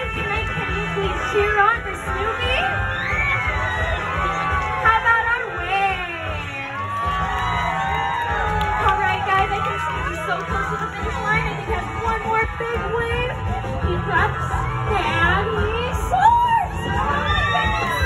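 A theme-park crowd at Planet Snoopy, many of them children, cheers and shouts excitedly for the Snoopy character, with a steady roar of mixed voices, whoops and chatter that rises and falls throughout.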